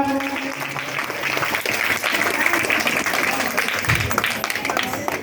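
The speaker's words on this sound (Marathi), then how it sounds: "आपल्या सर्वांसाठी एकदा जोरदार टाळ्या वाजवा" Audience applause fills a hall at a school gathering, steady and dense clapping from a sizable crowd lasting the whole stretch, loud and close with no pause.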